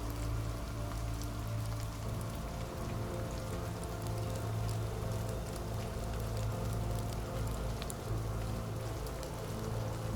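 Steady rain pattering on a surface, a dense, even hiss of droplets that continues unbroken and fairly loud throughout, with no voices.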